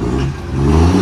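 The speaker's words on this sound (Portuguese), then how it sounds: "o Matheus tá acelerando aí" Motor scooter engine revving up close, a loud buzzing mid-pitched drone that swells, dips briefly and climbs again, with no talking.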